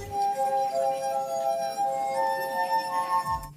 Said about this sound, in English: running your finger around the rim of a glass at just the right speed will produce sound